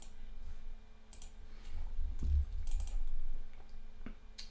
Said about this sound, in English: I'm typing this on my phone.